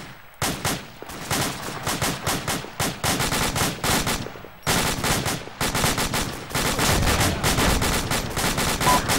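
Dense, rapid gunfire from a military video game, loud sustained machine-gun bursts and overlapping shots in a near-continuous barrage with only brief gaps.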